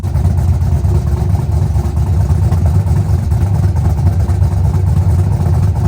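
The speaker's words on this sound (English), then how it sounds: "let me turn the key forward, make sure she is in neutral, and then pretty much fire it up" A Ford Foxbody Mustang built for quarter-mile drag racing runs with a loud, rough, rumbling idle, its deep engine note steady and close from start to finish with no pauses.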